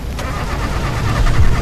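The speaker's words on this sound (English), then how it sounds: "My car is not starting." A car engine cranks without catching in an alien abduction horror game, a loud, close, rough grinding churn that builds slightly in strength over its short span, with no voices.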